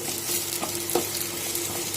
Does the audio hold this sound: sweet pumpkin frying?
yes